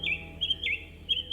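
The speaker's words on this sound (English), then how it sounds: "the thrush whistled a long note" A thrush whistles in short bright phrases, several clear repeated notes ringing out over a faint low background hum, fairly close and alone without voices.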